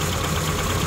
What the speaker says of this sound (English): you can also hear the engine revving up or toning down.